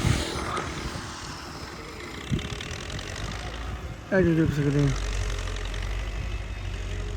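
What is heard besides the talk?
Belarus tractor engine running while ploughing a field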